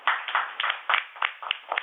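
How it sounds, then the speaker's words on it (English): Applause from a workshop audience for Elena, a short patter of scattered hand claps, moderately close and fairly light, lasting under two seconds. "A big hand for Elena for this."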